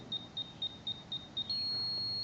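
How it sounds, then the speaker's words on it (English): An Arduino circuit gives six short, evenly spaced electronic beeps, then one steady continuous tone that holds to the end, clear over a quiet background. "The circuit will start beeping to indicate you will enter the password renewal."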